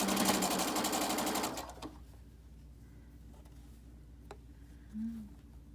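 A sewing machine stitches a fabric mask lining in a quick, loud run that stops abruptly after about two seconds, followed by quieter handling of the fabric.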